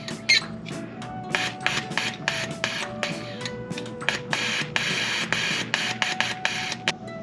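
Rapid mechanical clicking and buzzing pulses in short bursts from a fuel injector being fired repeatedly for cleaning, an irregular stuttering rhythm, with a faint whine underneath.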